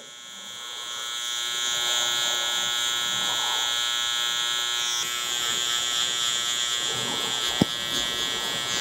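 Electric hair clippers run steadily at close range with a bright, constant buzz while cutting a sharp zero line along a hairline during a barber trim and fade; a brief click sounds near the end.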